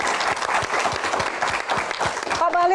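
Audience applause for Pak Bahlil at a Q&A event, loud sustained clapping from a crowd throughout, with a voice starting near the end.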